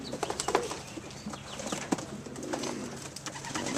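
Young racing pigeons around a backyard loft, with soft cooing and scattered bursts of wing flapping, moderately close against steady outdoor background noise and no talking.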